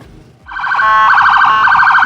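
A loud wailing siren starts abruptly and warbles rapidly up and down, close and steady for the rest of the clip.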